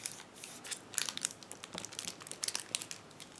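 Match Attax 2019/20 football card booster packs are torn open, giving close, crisp crinkling and ripping of foil wrappers in irregular bursts with brief pauses, fairly quiet.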